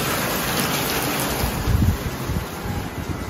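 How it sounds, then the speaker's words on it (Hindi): Heavy rain falling hard outdoors near an airport road, a steady dense broadband wash with wind noise, continuous and fairly loud, with a brief low rumble partway through. "बाहर बारिश फुल जोर में चालू है।"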